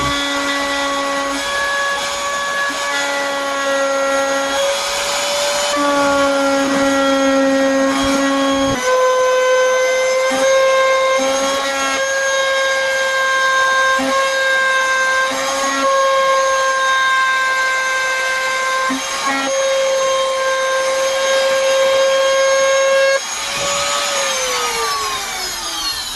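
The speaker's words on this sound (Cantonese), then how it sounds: "我將呢托板放喺個組裝收邊機嘅上面，將直角位切割成弧形。" A trim router in an assembly edge-trimming setup cuts the right-angle corner of an acrylic board into a curve, giving a loud, nearly continuous high whine that wavers slightly in pitch and winds down at the end.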